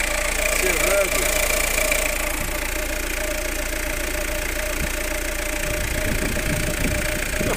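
A 2008 Peugeot Partner's car engine idles close by with a steady, rattling running note; someone talks over it throughout.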